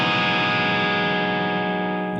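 An electric guitar rings out through a distortion effect, one sustained, harmonically rich chord that holds steady and slowly fades, played alone with no voice.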